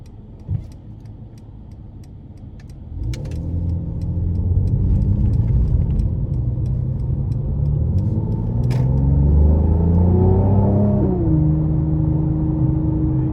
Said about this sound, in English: that's a great exhaust note